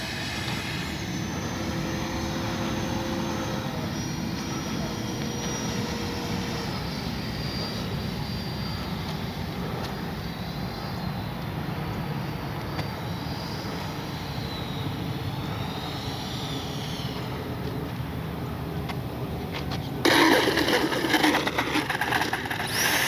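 An FMS F-16 64mm electric ducted-fan RC jet flies overhead, giving a steady whining rush that swells and fades as it passes, with a louder burst near the end.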